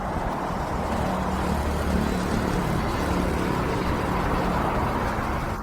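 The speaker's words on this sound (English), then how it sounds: "Now the car has started." Toyota Hilux Champ engine idling after a push start, a steady low rumble that holds even throughout, heard from nearby with no voices.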